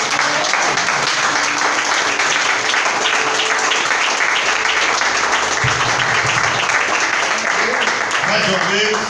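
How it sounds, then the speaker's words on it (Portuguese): A church congregation applauds at a worship service, dense sustained clapping filling the room for the whole stretch, with voices audible under the applause. "Eu quero que você aplauda ao Senhor Jesus."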